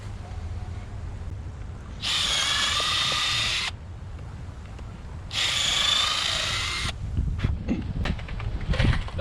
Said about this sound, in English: we're gonna drill some pilot holes first with our 1/8 inch drill bit here.